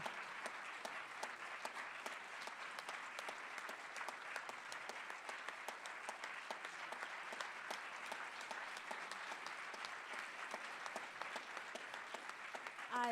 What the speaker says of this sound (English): So please receive with applause Cosmina, Stratan, and Cristina Flutur